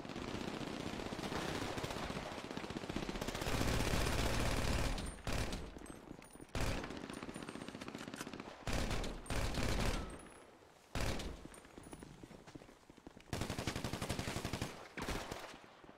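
Rapid automatic gunfire in the video game Eightborn, long loud bursts followed by shorter volleys broken by brief pauses, heard alone without talk.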